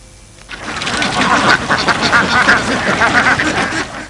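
Dense chorus of many ducks quacking at once on a large duck farm of about two thousand birds in the Nikli haor wetland of Kishoreganj, a steady loud crowd of overlapping calls with no talk.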